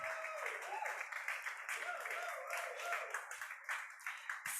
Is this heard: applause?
yes